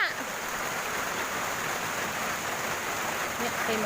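Steady rain falls outdoors where children play in the downpour, a continuous close hiss of water with faint voices mixed underneath.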